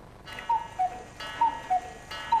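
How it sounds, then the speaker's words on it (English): A cuckoo clock ticks steadily, each crisp tick spaced evenly in a regular tick-tock rhythm, close and fairly loud over faint background hiss, with no voices. "At the other end of the price scale, you'll also find the humble cuckoo clock."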